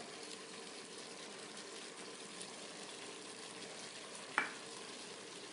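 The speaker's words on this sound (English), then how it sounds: "now while this pan's hot and the meat's browning, I'm going to stir those in" Beef browns in a hot pan for a pressure cooker stew, giving a steady, quiet sizzle and fry with faint stirring scrapes and one brief sharp clink near the end.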